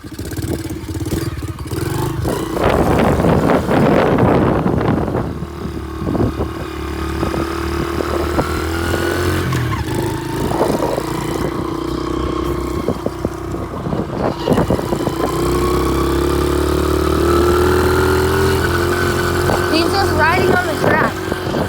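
Engine of a pit bike ridden on a track, loud and continuous with droning revs that rise and fall over wind buffeting, with brief voices and talk heard in stretches along the way.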